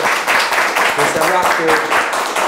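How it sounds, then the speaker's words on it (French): Genuine applause from a studio crowd for cameramen and technicians on a magazine show, steady clapping heard under and between voices talking over it throughout. "c'est des vrais applaudissements, c'est pas du faux"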